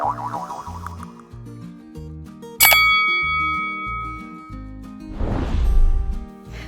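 A bright notification bell ding rings out once sharply and then sustains over light background music, followed by a soft rustling swell near the end.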